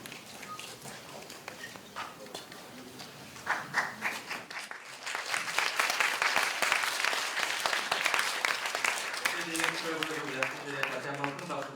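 An audience at a youth debate final breaks into loud, sustained applause that builds after a spoken announcement, many hands clapping at close range while a voice talks over the start and returns near the end.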